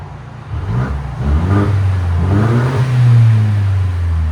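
A 2022 Mercedes GLC 300 2.0L turbo engine with straight-pipe exhaust revs hard with a deep, rumbling tone, rising and holding in long throaty pulls, loud and close, with no talking.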